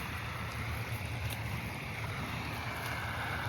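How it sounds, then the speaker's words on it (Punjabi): A generator powering two farm irrigation pump motors runs without pause, a steady mechanical drone and constant low engine hum with broadband noise, fairly close and unchanging. "ਇਧਰੋਂ ਇਥੋਂ ਜਨਰੇਟਰ ਚਲਾਇਆ ਹੈ"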